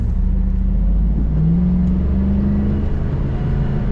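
A 1997 Pontiac Firebird Trans Am WS6 convertible accelerates on a cold winter day, its engine a steady, loud, close drone that rises in pitch midway, with no talking.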